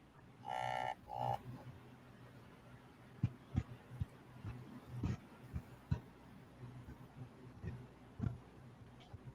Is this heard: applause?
no